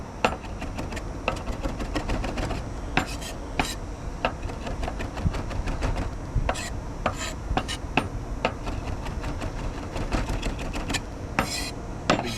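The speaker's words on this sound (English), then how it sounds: "We're gonna take a few sprigs of thyme and we're just gonna go ahead and chop this up." A knife chops fresh thyme sprigs on a cutting board with rapid, irregular taps, close and fairly loud, some strikes landing sharper than others.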